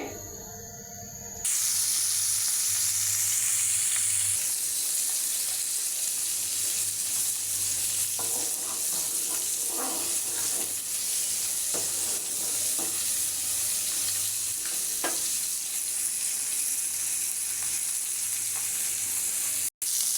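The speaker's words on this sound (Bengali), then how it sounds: "এখন মেখে মাছগুলো ভেজে নেব।" Spiced rohu fish pieces fry in a pan with a loud, steady sizzle and hiss, broken by a few brief scraping and clinking sounds as they are moved, continuing almost unbroken throughout.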